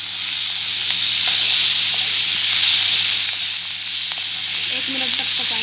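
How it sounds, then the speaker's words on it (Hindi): Green chillies and tomatoes frying in an okra masala for bhindi do pyaza sizzle loudly and continuously in the pan, a steady dense hiss with faint stirring underneath. "अब हम इसमें हरी मिर्च जो हमने काट कर रखी थी वो डाल देंगे और टमाटर जो रखे थे वो डाल देंगे"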